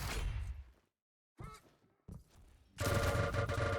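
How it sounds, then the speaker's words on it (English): Shotgun blasts and lightning gun fire trade in an arena shooter match, loud and close: a burst of fire that cuts to silence, short blasts, then a sustained crackling stream of fire to the end. "Shotgun against LG, and the shotgun is losing out"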